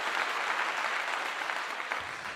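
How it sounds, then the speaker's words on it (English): A small group claps steadily in a room, a close, even patter of hands that lasts throughout and tapers slightly at the end. "I'll give you a clap for that."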